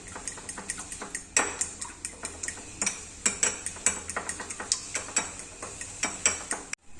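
Eggs with pepper powder and chili flakes are beaten in a bowl, producing quick, rhythmic metallic clinks of a fork striking the sides, close and crisp, with no talking.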